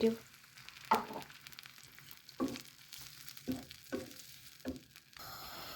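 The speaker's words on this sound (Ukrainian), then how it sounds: "сюди потрібно влити вино червоне, сухе, 450 мл" Dry red wine is poured into a hot pan of braising beef for beef bourguignon. The pan hisses and sizzles in repeated bursts, each swell fading before the next, with a brighter hiss at the end.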